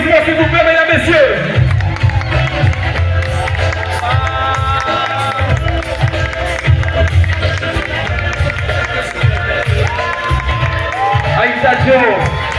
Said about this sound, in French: je suis vos applaudissements, s'il vous plaît, mesdames, messieurs